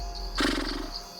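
A human voice imitates a gaur lying down and heaving a sigh: one short, breathy, roaring exhale rising abruptly and fading over about a second, close and fairly loud.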